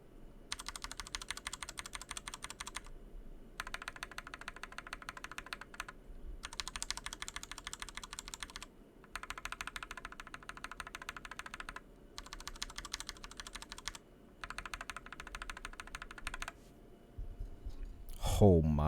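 Bursts of typing on stock, unlubed mechanical keyboards fitted with brown tactile and Gateron yellow switches, close clacky keystrokes in several separate runs with short pauses between, over a faint background murmur and a louder bump at the end.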